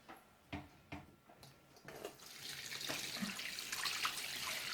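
Curds and whey for homemade cheddar cheese pour from a pot, a few wet splashes opening into a steady rushing, splattering stream that grows louder and fills the close space.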